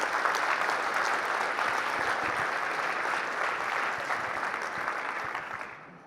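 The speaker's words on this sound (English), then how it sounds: "So give a big applause there." A conference audience at a tech event claps in sustained, dense applause that stays steady throughout, fading slightly toward the end, with no voices over it.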